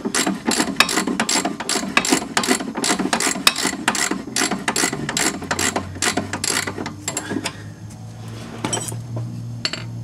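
A nut snugged onto a control arm bolt of an Audi A4 B5 1.8T, with rapid, close ratchet clicks in quick bursts, a low mechanical hum building later on, and no speech.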